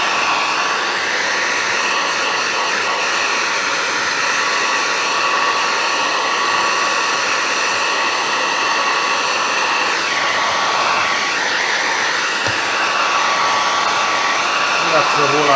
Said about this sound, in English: that's the whole idea behind the hairdryer is you're going to melt the glue